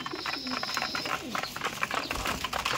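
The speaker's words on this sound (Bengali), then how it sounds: "এখানে যে সমস্ত পায়রা দেখছেন সব কিন্তু ম্যাড্রাসি পায়রা আছে" Madrasi pigeons in a loft coo in soft, repeated low calls, close and busy, with scattered chirps and rustling in the background.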